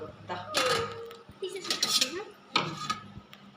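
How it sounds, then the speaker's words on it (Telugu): A knife chops raw mango into small pieces, with a few sharp clicks and clatters of the blade against a board or dish, spaced irregularly while someone talks over them. "దీని పీసెస్ ఇట్లా గట్టి కట్ చేసుకుంటాం"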